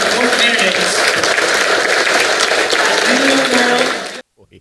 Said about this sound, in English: let's give a round of applause for both candidates